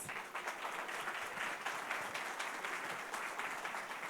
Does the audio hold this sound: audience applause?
yes